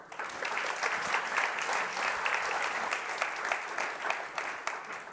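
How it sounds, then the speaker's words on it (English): A conference audience applauds steadily as the tech entrepreneur Stefan Roever is welcomed to the stage, a dense even clapping that carries on for several seconds without speech. "please give a round of applause to Stefan Roever"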